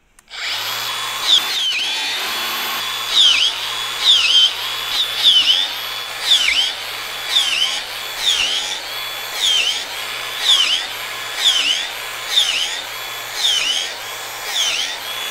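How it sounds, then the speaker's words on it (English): A power drill bores a row of holes around a log for mushroom inoculation, the motor whining steadily while about a dozen regular bursts rise and fall as each hole is drilled, close and loud with no talking. "we've drilled holes throughout the entire circumference of the log"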